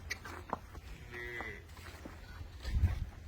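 Dairy cattle on a farm give a low, faint moo near the end, set against quiet barn background with scattered soft clicks and knocks.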